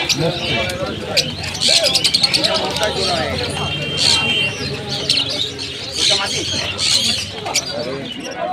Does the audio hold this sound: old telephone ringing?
no